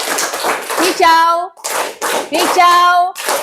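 Children in an Indonesian classroom clap a rhythm together in two bursts of quick claps, each followed by a sung tone, all loud and close.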